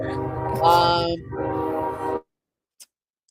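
A passing train sounds a loud sustained horn blast with a heavy rumble, then cuts off abruptly into near silence.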